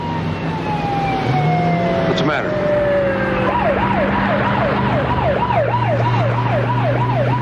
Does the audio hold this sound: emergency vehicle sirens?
yes